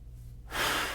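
A deep, fast inhalation fills the lungs for brass high-register playing, a close breathy rush that swells after a quiet start and stays loud to the end.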